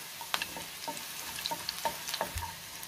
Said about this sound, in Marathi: मिरची चांगली कुरकुरीत तळून घ्यायची आहे